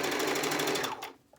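A sewing machine stitches straight across the squared-off corner of a fabric bag, making a fast, even, close mechanical whirr of rapid stitches that winds down and stops after about a second.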